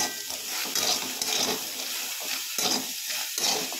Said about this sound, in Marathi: पूर्ण भाजीपर्यंत त्याला खालीवरी करत हलवत राहायचं